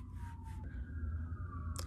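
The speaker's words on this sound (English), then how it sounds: "you can hear sirens." Emergency vehicle sirens wail outside a house near a construction site, a steady falling-then-rising tone heard at a distance over a low rumbling background, with no one talking.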